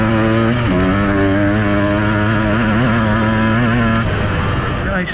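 A Beta 200RR two-stroke dirt bike engine revved hard at full throttle after a top-end rebuild, a loud, close, sustained buzzing whine that shifts pitch as the revs rise and settle.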